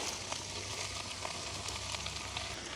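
Onions fry in oil in a pot for a village-style jackfruit curry, giving a steady soft sizzle with faint crackles throughout, close and fairly quiet.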